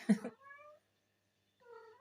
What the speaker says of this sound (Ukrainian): Чуєте, як вона сердиться, нявкає?